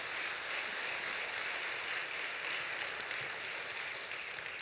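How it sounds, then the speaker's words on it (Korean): A church seminar congregation claps together in praise, a dense, steady wash of applause that holds at an even level throughout with no speech over it. "하나님께 영광의 박수 한번 올리도록 하겠습니다."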